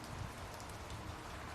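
Rain falls steadily outside a car, a faint, even hiss of drops pattering on the surface with no voices.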